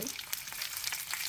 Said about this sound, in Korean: 이게 조금 덜 부스러질까 해서 제가 기름에 이렇게 튑니다.